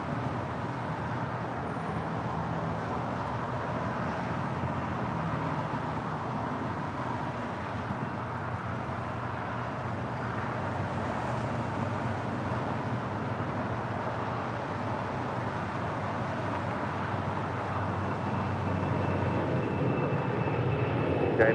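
An Atlas Air cargo jet takes off from LAX, a steady, loud, continuous engine roar that swells slightly toward the end, heard alone without voices.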